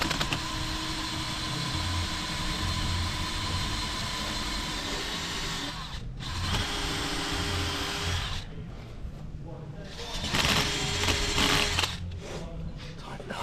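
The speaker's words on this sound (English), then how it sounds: "We'll just quickly grab the flappy wheel thing again, and very gently." A flap wheel grinds steadily against softened sticky residue on a Rover 75, a continuous whirring buzz that dips and changes pitch under load, with brief pauses and faint talk around it.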